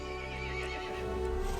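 An angry horse from the game Resident Evil Village lets out a loud, close neigh that sustains across the whole moment with no talk, its whinny strained and tense over a dense background.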